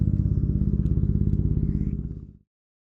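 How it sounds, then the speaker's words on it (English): A helicopter thumps overhead in steady, rhythmic rotor pulses, fairly loud and constant, before cutting off abruptly after a couple of seconds. "Excuse the helicopter in the air."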